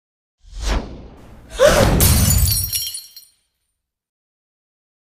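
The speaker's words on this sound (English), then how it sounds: "This cheap wine is only good for making noise when it shatters." A cheap wine bottle shatters in a dramatic drama scene: a quick whoosh, then a loud close crash of breaking glass with tinkling shards scattering before sudden silence.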